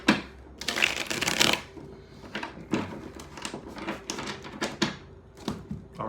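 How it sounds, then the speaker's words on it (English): Tarot cards being shuffled in several quick riffling bursts, crisp papery flutters near the microphone with short pauses between them, and no talking. "One more shuffle."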